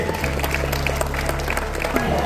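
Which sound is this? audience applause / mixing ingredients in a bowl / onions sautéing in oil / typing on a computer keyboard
audience applause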